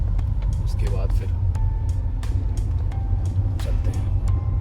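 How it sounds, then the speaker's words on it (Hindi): Low, steady rumble of a car moving through highway traffic on the road from Nagaon to Dimapur, with faint clicks and knocks and someone talking over it. "ये थोड़ा सा ट्रैफिक है, ट्रैफिक निकाल लेता हूँ"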